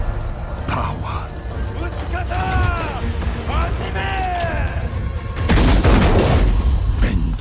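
Bursts of gunfire crackle through a samurai video game, dense rattling shots layered over game music and effects, loud and sustained, with a heavier volley near the end while a player talks over it.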